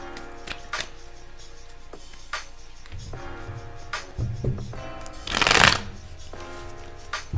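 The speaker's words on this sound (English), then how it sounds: "Let's give this a good shuffle." Tarot cards are shuffled in several short bursts, with soft riffling and tapping, ending in one louder, longer riffle near the end.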